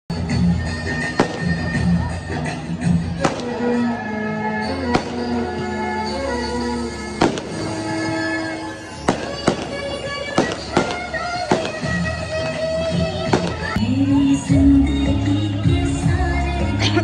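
Firecrackers crack repeatedly at a nighttime celebration beside a dance program, sharp irregular bangs popping over a steady backdrop of music and festive noise.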